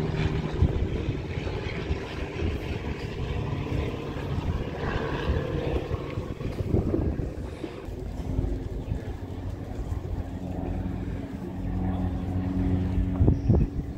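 A 1946-era de Havilland trainer aircraft's piston engine drones steadily with a propeller hum at an airshow, moderately loud and unchanging throughout.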